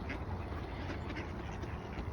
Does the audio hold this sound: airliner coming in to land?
no